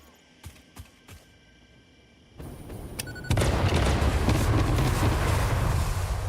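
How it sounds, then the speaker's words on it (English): A few sharp distant booms, then a dense, continuous roar of rapid explosions rumbles loudly through the rest of the clip, from the video game Satisfactory. "Lots of explosions."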